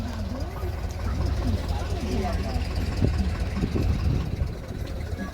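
A boat engine drones low and steady as the vessel runs along the edge of the Sundarbans in fog, a continuous close rumble with faint voices beneath it.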